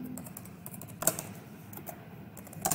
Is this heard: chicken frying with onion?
no